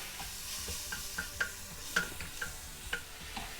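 Masala mixture of tomato and garam masala stirred in a pan, a spoon clinking lightly against the metal several times over a soft sizzle, quiet and close.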